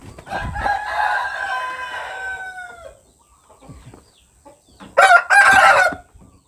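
A Thai fighting rooster in exercise training crows once in a long drawn-out call, then after a pause lets out two loud, harsh clucking squawks close by, with no talking.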